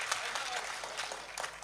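An audience at a Hindi poetry gathering bursts into dense, steady applause, a continuous crackle of many hands clapping close by with no pauses.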